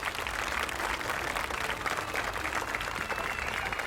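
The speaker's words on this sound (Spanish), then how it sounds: "dale un fuerte aplauso a mi canal" Continuous applause from a crowd, a dense, even patter of clapping hands that holds steady throughout.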